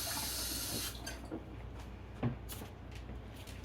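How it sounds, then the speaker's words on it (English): Running kitchen tap water splashes over hands being rinsed for about a second, then cuts off, followed by a few faint knocks and small handling sounds nearby. "Let me rinse those hands off."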